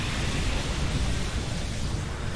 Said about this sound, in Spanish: Okay, esa tormenta sionica.